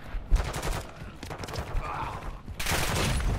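Gunfire in the video game Call of Duty Modern Warfare II, with sharp shots and rapid bursts over a noisy background that swells into louder sustained fire near the end.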